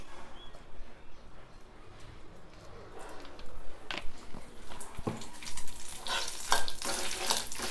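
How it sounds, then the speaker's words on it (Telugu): Dried red chillies fry in oil for a ground chutney, making a soft crackling sizzle that grows louder and busier with sharp stirring clatters toward the end. "ఎండుమిర్చి కూడా మంచిగా దోరగా వేయించుకోవాలి"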